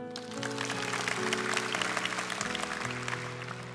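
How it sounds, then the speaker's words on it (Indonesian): A church congregation claps steadily and energetically for a few seconds, with music playing underneath. "Berikan tepuk tangan untuk Tuhan."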